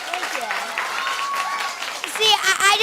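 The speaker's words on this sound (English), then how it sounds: "And yes, applause, of course." Audience applause at a youth anti-bullying talk show event, a brief burst of clapping mixed with voices and speech, with children's voices audible over it.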